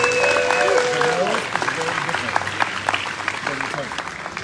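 Applause and cheering from a crowd at a Tiki Oasis rum tasting in San Diego, with a voice carrying over the start before the clapping continues as a busy, uneven patter.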